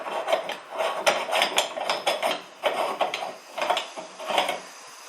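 A rusted manual meat grinder works through pork, giving rhythmic metallic clanks and grinding scrapes in repeated bursts, close and fairly loud, with no talking.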